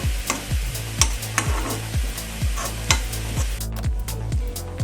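Grated coconut roasts in a pan for a Kerala-style mushroom dish, with a spoon scraping and stirring in a steady rhythm of roughly two strokes a second over a continuous close sizzle, and no talking.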